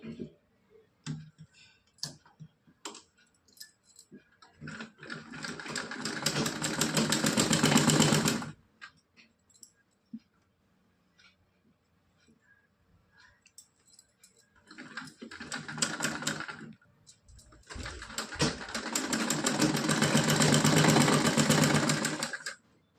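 A sewing machine stitches lining fabric onto a small Laddu Gopal dress in two long runs and a shorter burst, with quiet handling clicks and pauses between them.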